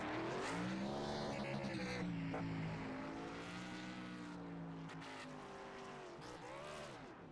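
The winning No. 30 race car does a burnout at Homestead after the race: a loud, sustained engine roar with rising and falling revs and tire squeal, fading slightly toward the end.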